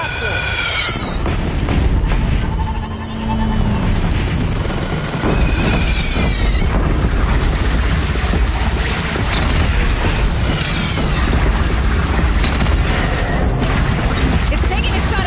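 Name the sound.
cannon firing shots in video game Horizon Zero Dawn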